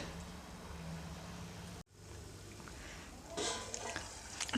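Bitter gourd curry with chili powder and tomato simmers in a pan, a soft steady bubbling and sizzle interrupted by a brief cut, then a louder burst of sizzling toward the end.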